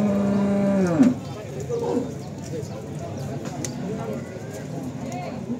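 A cow at a cattle market lets out a long, loud moo that bends and trails off, then livestock noise and scattered clatter continue underneath people talking.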